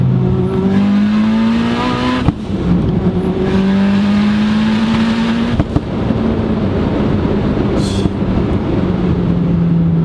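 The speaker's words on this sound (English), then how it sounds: "that boost sound that you hear, that little spool" A turbocharged Mitsubishi Evo accelerates hard on an icy road, its engine note climbing steadily in long pulls with a rising turbo whine, loud and continuous without speech.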